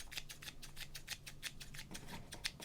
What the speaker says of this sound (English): Because this is an ASMR based channel, we enjoy our scissor sounds.